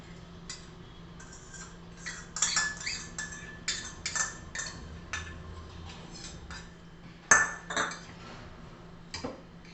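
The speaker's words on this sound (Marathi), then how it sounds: "आता ह्या बाउलमध्ये हे दही घालून घेऊया." A spoon clinks and scrapes against a bowl while yogurt is added to a summer salad, with scattered light taps and one sharper knock near the end, close and fairly quiet with no talk.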